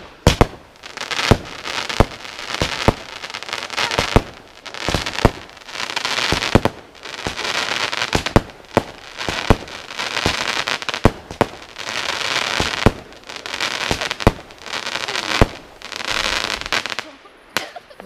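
Fireworks fired on 19 July 2016, with a rapid series of loud bangs and crackling bursts, one after another, rumbling between blasts and a few faint voices underneath.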